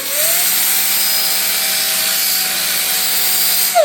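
An angle grinder runs at a steady, loud high whine as it sharpens a steel lawn mower blade, grinding continuously for several seconds before the pitch drops at the end.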